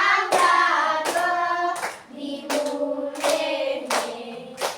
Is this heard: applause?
yes